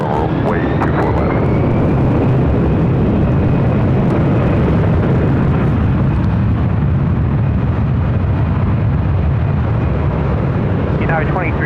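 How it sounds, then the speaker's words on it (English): Delta Airbus A350 bound for Atlanta taking off at LAX, a loud, sustained roar of jet engines filling the whole stretch, with faint radio chatter over it. "Again, this Delta A350 heading to Atlanta, flight 469."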